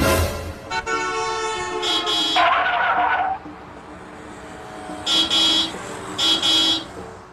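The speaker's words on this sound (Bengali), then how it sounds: "ওই গাড়িটা হর্ন বাজাচ্ছে কেন?" A car horn honks several times nearby: one long blare, then two short, sharp toots after a pause, over low road noise.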